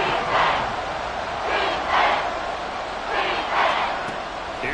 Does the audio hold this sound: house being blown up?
no